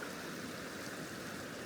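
River water flowing steadily across a cold stream crossing, a constant broadband rush with no breaks, fairly close and alone without voices.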